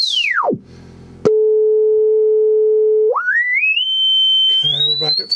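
A sine test tone through a Western Electric Altec 755A speaker glides down, holds steady, then sweeps upward to a high pitch near 4 kilohertz, loud and clean with no talking.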